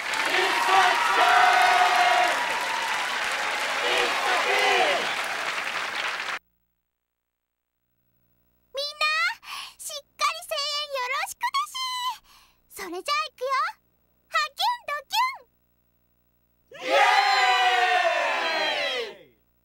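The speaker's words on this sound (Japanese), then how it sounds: "彼女への歓声もすごいでしょ。" Video game crowd cheering and applause from the PS2 game Kaiketsu! Osabakiina fills the first six seconds as a dense roar. After a silence, short bursts of game voices follow.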